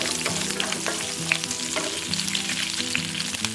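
Green chilies and a few peanuts frying in hot oil for crisp poha chivda, a steady close sizzle with faint stirring clinks, no voices.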